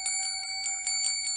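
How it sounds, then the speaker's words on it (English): A small bell rings in rapid repeated strikes, a bright sustained metallic tone with several rings in quick succession, close and alone. "She rings a bell."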